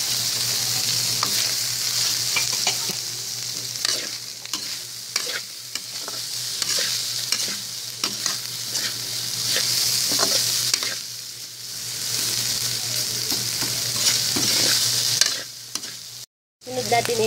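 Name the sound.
ground pork frying with salt and pepper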